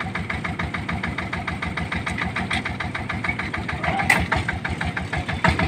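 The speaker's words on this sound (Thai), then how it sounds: "นี่ก็ขยับรถเริ่มถอยหลังออกแล้วเพื่อน" A farm cart's engine putters in a cassava field while reversing, a close, steady mid-pitched chugging with regular knocking pulses and a brief sharp clank near the end.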